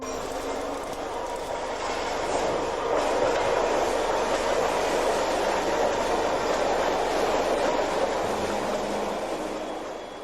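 A Scarborough RT train, on Toronto's TTC Line 3, rides the rails with a steady, loud rolling roar and clunky rattle throughout, heard from inside the car.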